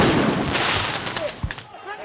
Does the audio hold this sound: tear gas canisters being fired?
yes